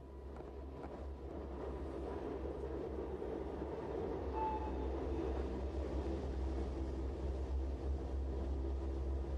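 A Swiss rack railway train climbs on its cogwheel over a Riggenbach ladder rack, a steady deep rumble and hum of motor and wheels running on without pause, close and fairly loud.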